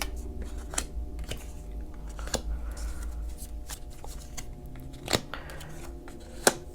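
Tarot cards are shuffled and drawn by hand on a reading table, with soft riffling, sliding and sharp snapping clicks at irregular intervals, close and fairly quiet.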